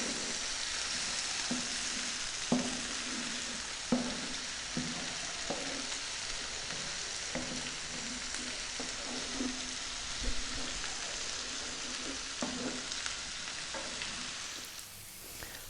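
A creamy pasta sauce of bacon and asparagus fries in a pan over medium heat, giving a steady, close sizzle with regular soft scrapes and taps from stirring. The hiss fades slightly at the very end.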